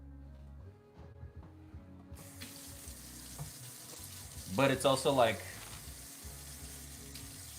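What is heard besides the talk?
water running from kitchen tap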